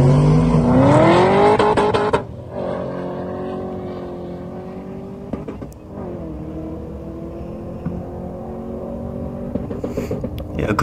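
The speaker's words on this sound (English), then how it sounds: "How good does that rev cut sound?" A 1995 Ford Falcon Clubsport V8 revs hard against the rev limiter at a drag race meeting, a loud, close engine roar that drops after two seconds into a steady, throbbing idle with occasional blips.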